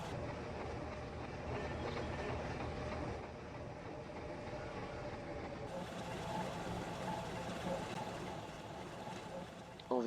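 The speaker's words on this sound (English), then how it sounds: "train now approaching platform 3 is the special service to Ritvie Village" A one-coach special service railcar approaches a station platform, rumbling steadily with faint clickety-clack at moderate distance, then a sharp knock at the end.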